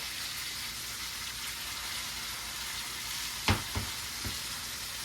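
Steady loud sizzling of a crowded pan of chicken frying, with a few clattering knocks of a utensil against the pan.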